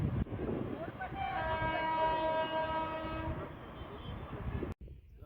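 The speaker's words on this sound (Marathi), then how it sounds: "ट्रेन आलेला आहे." A train passes near a trek point, its horn sounding in sustained tones over a steady rumble of rolling wheels, with voices mixed into the noise.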